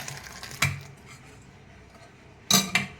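Pots and utensils clink and clatter twice as finished tomato dal is moved into a bowl, sharp metallic knocks separated by a quieter stretch of faint kitchen noise.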